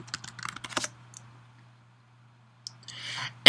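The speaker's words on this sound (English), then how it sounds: "So I'm just going to click that. And I'm going to type in my password." Computer keyboard typing, a quick run of close, crisp key taps, then silence, then a few more taps ending in a louder click.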